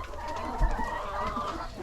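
Hens clucking in a busy farm coop at dusk, a dense overlapping chorus of many birds close by, with a brief low thump partway through and no talk.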